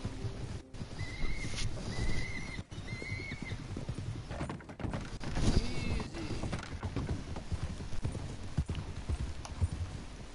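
Horse hooves clip-clopping in a steady rhythm during a cinematic ride in a video game, with a horse whinnying and a voice talking over parts of it.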